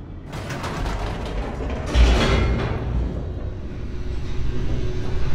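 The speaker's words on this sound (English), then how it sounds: "The elevator raced downward" An elevator mechanism in the video game The Stanley Parable, heard as a continuous mechanical rumble and grinding creak with a louder surge about two seconds in, then a sustained whirring descent, with no talking.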